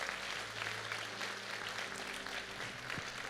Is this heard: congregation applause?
yes